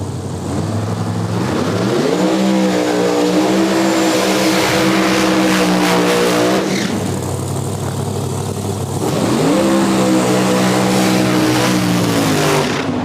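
Drag race cars at a no-prep event at Cordova Dragway do burnouts, with two loud engine blasts rising and sustained, then falling, under a roaring, screaming tire-and-engine wash heard from the track side.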